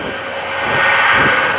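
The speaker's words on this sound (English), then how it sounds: "Listen to the three afterburners kick in." Shockwave jet truck at the 2014 NAS Oceana airshow lights its three afterburners with a loud, swelling jet roar that builds and holds.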